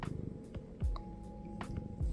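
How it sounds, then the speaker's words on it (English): A house cat settled in a lap purrs softly, a low continuous rumble with a few brief rustles and shifts of movement over it, close by and without speech. "Here's my cat who wanted to be in my lap the entire time."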